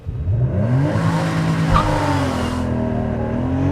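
A 2013 Porsche Boxster S launches hard under launch control, its engine note loud and close, climbing steadily in pitch as the car accelerates without a break.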